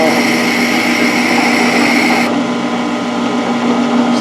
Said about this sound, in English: Still scraping because there's a little bit of flex in those boring bars